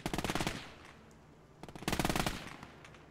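Machine gun fire in a World War II video game battle against German 88mm guns: two long rapid bursts of automatic fire, separated by a quieter gap, loud and close with no talking.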